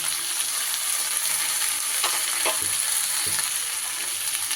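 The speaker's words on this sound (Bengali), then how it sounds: "এবার একটু সব সবজির সাথে ফুলগুলোকে মিশিয়ে নেব" Drumstick flowers being mixed into a pan of frying flat beans and brinjal, a dense continuous sizzle with a few soft scraping stirs partway through.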